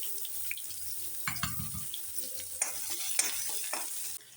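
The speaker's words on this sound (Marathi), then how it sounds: "बघा, आपला कांदा फ्राय होत आलाय" Onion, cumin seeds and green chili frying over low heat in a pan, a continuous soft sizzle with intermittent scraping and clinking from a spoon stirring, no voices.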